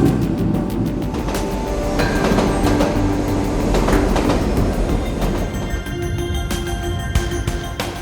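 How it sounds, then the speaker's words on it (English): A rack railway train climbing a steep incline in Switzerland rumbles and rattles steadily up close, with wheels clattering and metallic squeals over a continuous heavy mechanical drone. "the rack railway runs briskly uphill for the last few meters."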